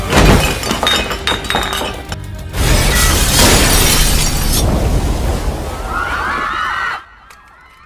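Kitchen plates shatter during a film fight scene, several sharp crashes of breaking crockery stacking up over a dense din, followed by tinkling shards and ringing fragments before an abrupt cut to near silence.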